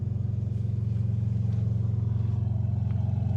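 A BMW M3 Competition idles in M2 mode with a deep, steady, throbbing rumble, close and continuous with no talking.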